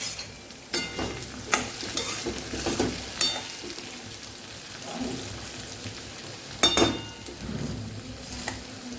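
Potato poha (Kathiyawadi bateta pauva) fries in a pan with a steady soft sizzle, while a spoon scrapes and stirs in several quick, clattering passes, close and moderately quiet.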